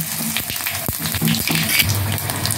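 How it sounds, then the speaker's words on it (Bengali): Whole dry red chillies, cumin seeds and bay leaves hit hot oil, giving brisk crackling sizzles with a few sharp pops and spits that settle into a lighter fry over a couple of seconds. "দিয়ে দেবো দুটো গোটা শুকনো লঙ্কা, একটু জিরা আর দুটো তেজপাতা"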